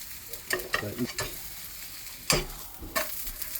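A mugwort and water parsley pancake fries in a hot pan, a soft steady sizzle broken by a few sharp scraping clicks and bursts from stirring or turning, close and fairly quiet with no talk.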